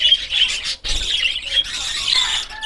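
Parakeets kept as pet birds chatter and squawk close by in a dense, continuous stream of shrill chirps and calls, loud and without talk.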